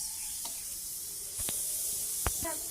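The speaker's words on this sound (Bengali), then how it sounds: "আগে ভেজে নিয়ে নিই।" Food frying in a pan gives a steady bright sizzle throughout, with a few sharp clicks and scrapes over it and no talk.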